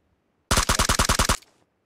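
A single tight burst of about nine rapid gunshots fires in quick succession against near silence, cutting off sharply after roughly a second with a short fading tail.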